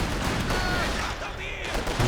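Rifle fire in a Company of Heroes 2 multiplayer 2v2 battle: dense volleys of rapid gunshots crackle continuously and loudly throughout, with overlapping reports and battle noise and no pause between bursts.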